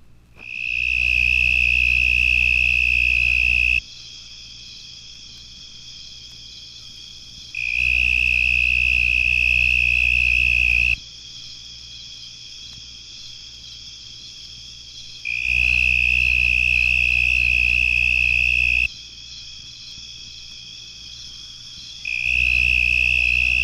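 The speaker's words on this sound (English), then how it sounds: "One such is the narrow-winged tree cricket, Oecanthus angustipennis. It usually sings from high in trees." A narrow-winged tree cricket, Oecanthus angustipennis, sings high in trees in long buzzing trills lasting several seconds each, separated by short pauses and repeated steadily, loud and clear with a faint low hum between bursts.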